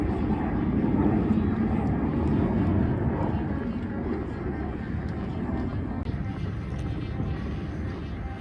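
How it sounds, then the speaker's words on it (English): At the RIAT airshow, a B-1 bomber on the runway gives a steady, broad jet roar that stays constant from a moderate distance, with some wind buffeting the microphone. "Turns out we did get a B1 on the runway, but regrettably not the speed or sound you'd want it."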